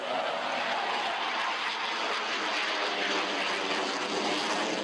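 A JF-17 Thunder fighter jet's engine roaring steadily and loudly as the aircraft passes, a broad, continuous rushing drone with no pauses.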